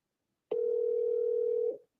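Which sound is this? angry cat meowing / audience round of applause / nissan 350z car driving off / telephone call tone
telephone call tone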